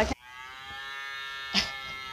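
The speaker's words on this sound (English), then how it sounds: "It's mooing." A toy cow gives a steady, droning moo with rich harmonics that holds for over a second, bracketed by two short clicks or bumps, close and fairly clear.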